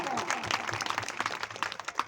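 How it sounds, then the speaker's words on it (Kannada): A congregation at a prayer meeting claps loudly and continuously, a dense crowd of hands filling the room with steady applause. "ಒಂದ್ಸರಿ ಜೋರಾಗಿ ಚಪ್ಪಾಳೆ ತಟ್ಟೋಣ."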